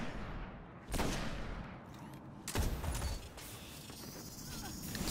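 A grenade in Destiny goes off as two sharp, loud bursts about a second and a half apart, each with a crackling tail, over ongoing gunfire and clatter from the game.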